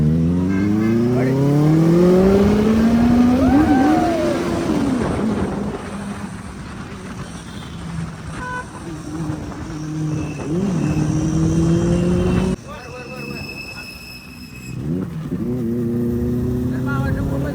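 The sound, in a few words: Benelli 600 motorcycle engine revving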